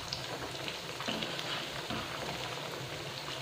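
Sabudana tikki frying on high flame in a kadhai, a steady, even sizzle of hot oil with no break and nobody speaking.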